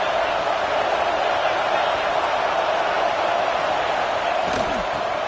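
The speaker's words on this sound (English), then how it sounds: "This crowd bringing the energy and noise early." A packed stadium crowd at a college football game roars in a steady, unbroken wash of cheering and noise that holds at an even, loud level throughout.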